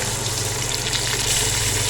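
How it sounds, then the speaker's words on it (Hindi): A little water poured into a pot of spiced meat for korma, a continuous close rush of liquid with a steady gurgling wash, no talk. "मैंने इसमें थोड़ा सा पानी डाला"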